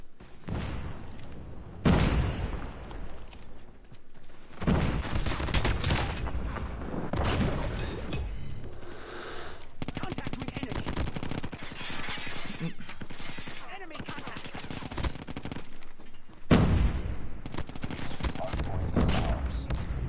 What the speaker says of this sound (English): I keep getting shot in the back, chat.